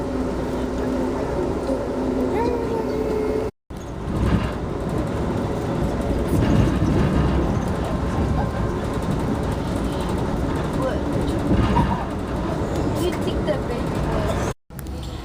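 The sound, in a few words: freight train passing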